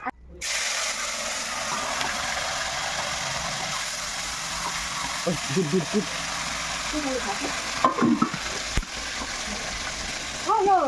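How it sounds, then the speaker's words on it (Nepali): Fresh local fish caught in Assam frying in a pan, a steady loud sizzle with bubbling and crackle, plus faint background voices and some clatter near the end. "यो मारेको माछा चाहिँ अब म फ्राई गर्न आँटेको"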